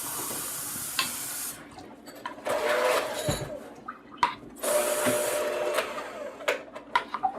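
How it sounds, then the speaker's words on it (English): Tap water runs into a glass in a kitchen to rinse it, in two bursts of splashing flow separated by a pause, close by, with small clinks and handling noises. "So what I'm going to do now is fill up this glass with some water so I can rinse this."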